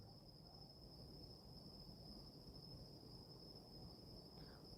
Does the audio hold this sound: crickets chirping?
yes